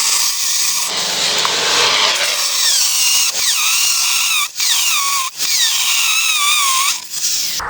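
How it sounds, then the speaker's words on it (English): A hammer drill fitted with a 3/8 masonry bit bores steadily into masonry, a loud continuous whine and grind with brief pauses and pitch squeals as the bit bites, with no talking. "for a drill, I'm using a 3/8 masonry bit on a hammer drill."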